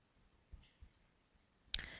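A single sharp computer mouse click rings out clearly near the end, with a few faint softer clicks before it, used to hit a save button. No one speaks.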